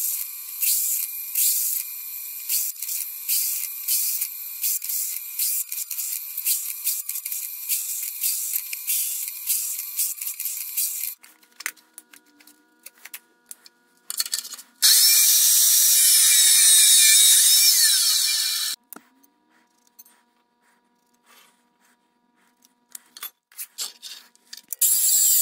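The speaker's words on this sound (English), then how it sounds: "I'm gonna get a drill bit and just go by through all these really quickly" A drill bit enlarging holes in a utility trailer during restoration, a high whirring, grinding drill run for about eleven seconds, then scattered clatter, a second loud burst of drilling, and intermittent handling noises.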